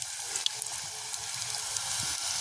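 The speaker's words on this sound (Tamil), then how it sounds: "எண்ணெய் நல்லா கொதிச்சுட்டு நாங்கள் அப்படியே பூரியே போடுவோம்" Beetroot puris made from garden-grown beetroot fry in hot bubbling oil, giving a steady, close hiss of sizzling with small crackles throughout.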